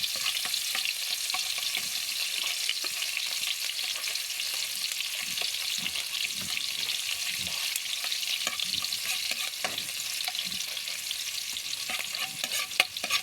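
Kangkong water spinach being sautéed with onion in a pan for adobong kangkong, a steady, dense sizzle with occasional crackles and stirring scrapes, close and continuous, with no voices.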